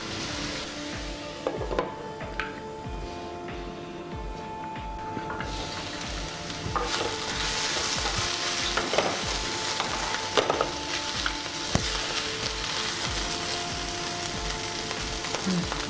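Raw jackfruit curry simmering on a low flame, a continuous close sizzle and crackle that thickens and grows slightly louder partway through, with occasional utensil clinks and no voices.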